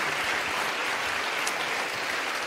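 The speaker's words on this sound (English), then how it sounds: "Give a round of applause to your team." Audience at a Save Soil event in Azerbaijan gives the team a round of applause, a steady, full burst of clapping from a large crowd with no speech over it.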